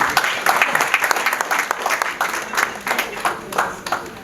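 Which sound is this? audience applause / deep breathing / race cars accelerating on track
audience applause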